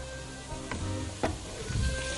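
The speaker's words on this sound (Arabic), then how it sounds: "نزلت التومه على الطنجره زي ما هي بدون زيت علشان تقدحها" Garlic toasts in a dry pot with no oil, giving a soft steady sizzle broken by a few sharp scraping stirs.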